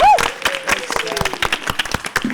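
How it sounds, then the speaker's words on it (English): A WonderCon convention panel audience claps in brief bursts mixed with a speaking voice over a short stretch. "So round of applause for them."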